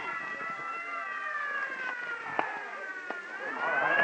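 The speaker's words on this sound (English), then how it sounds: "Clear the way for the ambulance." Wailing ambulance siren in an old-time radio crime drama, rising and falling steadily across the whole stretch, fairly loud and alone, with a few sharp clicks and a swelling tone near the end.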